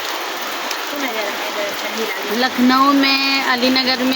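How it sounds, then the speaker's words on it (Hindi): The season's first rain falls steadily in Basti, a constant broadband hiss that continues under a woman's close, ongoing talk. "हमारे यहाँ बस्ती में बारिश हो रहा है।"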